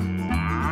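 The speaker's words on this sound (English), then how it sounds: "Holstein cow." A Holstein cow gives one close, loud, sustained moo, its pitch shifting partway through and tapering toward the end.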